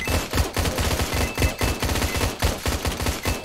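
Rapid automatic gunfire from the horde-survivor tower defense video game Road Defense: Outsiders, a dense steady stream of close, loud shots with no talking.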